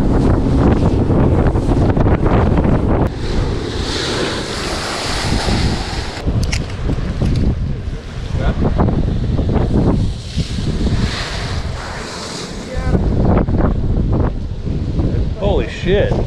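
Extreme wind roars over Lake Erie near Buffalo Harbor, a loud, continuous buffeting on the microphone mixed with crashing waves and surf, with voices faintly beneath.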